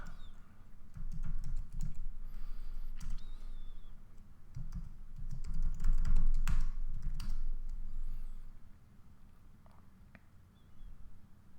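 Fingers tap quickly on a computer keyboard, a run of light, close clicks in uneven bursts with brief pauses, over a low background rumble and no speech.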